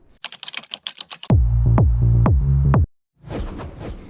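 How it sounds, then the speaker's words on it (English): A typewriter typing effect made in Filmora plays a quick run of light key clicks, then a loud mechanical clatter with several strikes and a carriage sweep, followed by a brief burst of further typing. "In order to make typewriter effect"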